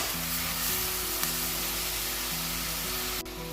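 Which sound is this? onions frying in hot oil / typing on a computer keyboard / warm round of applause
onions frying in hot oil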